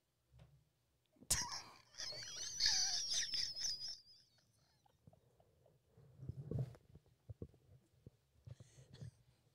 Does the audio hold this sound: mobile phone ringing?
no